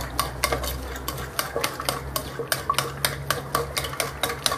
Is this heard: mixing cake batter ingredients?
yes